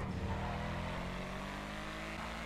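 A car accelerates hard in GTA Online, a steady loud engine drone that climbs and holds as it speeds along the road, with no talking.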